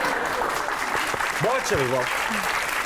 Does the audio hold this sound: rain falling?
no